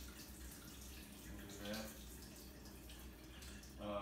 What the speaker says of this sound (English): All I'm doing is rinsing beans.